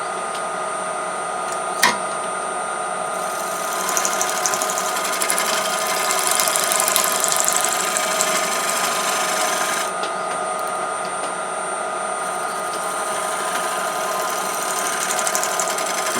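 Wood lathe spinning a naturally pierced bowl while a tool takes a very light cut, a steady close whirring hum with a faint hiss that holds through the whole stretch, with one brief knock early on.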